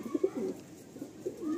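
Madrasi pigeons coo in a loft of nine nest boxes, soft throaty burbling calls rising and falling in short bursts, close but fairly quiet, with no talking.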